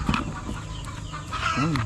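Chickens cluck and murmur softly among steady background noise while being fed their mixed feed, with several faint bird calls scattered throughout and a brief rising cluck near the end.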